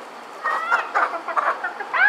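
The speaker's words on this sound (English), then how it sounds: "When's your time coming, chicken?" A farm chicken clucks close by in a few short, separate bursts, with a brief higher squawk at the end and quiet between calls.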